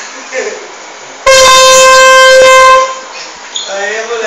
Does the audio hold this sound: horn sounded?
yes